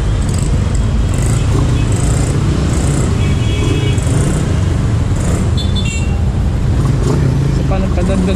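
Street traffic with jeepneys stopping in the road, a dense continuous rumble of engines and passing vehicles with occasional horn toots, and talk heard over it.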